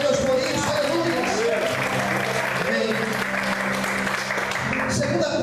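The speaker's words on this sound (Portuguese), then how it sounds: "Você pode aplaudir o Senhor," A church congregation claps in sustained applause, a dense, loud wash of hands filling the room, with voices and raised speech running underneath.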